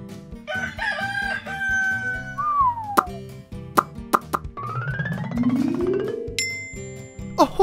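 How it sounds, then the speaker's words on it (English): A cartoon rooster crows over bouncy farm-themed children's music, with a rising cock-a-doodle-doo among playful plops and short whistling effects. "A rooster!"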